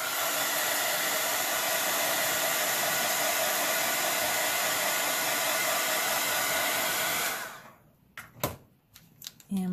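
Hair dryer blowing steadily at close range to dry paint on a rock fairy house, a constant loud roar that cuts off after about seven seconds, followed by a few clicks and handling knocks.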